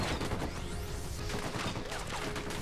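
Machine gun fire in the video game Ghost Recon Wildlands, a dense burst of rapid gunshots that runs through the whole short stretch, with no talking.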